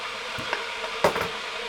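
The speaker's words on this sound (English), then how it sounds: "Sorry about the noise of the kettle." An electric kettle heats water for coffee in a home kitchen, giving off a steady, close broadband hiss with a few soft knocks and clinks rising through it.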